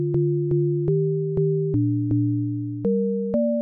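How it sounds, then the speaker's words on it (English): Simple sustained synth chords played from a MIDI pattern on Ableton's Operator synthesizer, basic major and minor triads changing every half second or so, clean and steady with no talking. "I'm just going to grab operator real quick and you can hear it."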